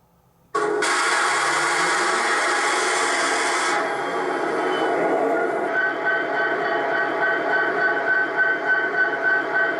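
An MTH One Gauge SD70ACe model diesel locomotive with Proto Sound 3.0 starts up: the engine rumble starts suddenly with a burst of hiss, then settles into a steady mechanical idle.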